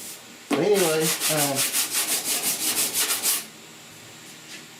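Hand sanding body filler on the cowl and firewall of a 1969 Chevy C10 pickup, a steady back-and-forth rasp, roughly a dozen quick strokes in an even rhythm, close and loud, then stopping.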